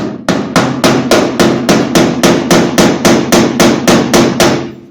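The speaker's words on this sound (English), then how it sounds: "So I'm going to take this and I'll hammer it in a bit." Steady, loud metallic hammer strikes on a broken fender bolt of a 1966 VW Beetle Convertible, about three per second, repeating evenly with no talking.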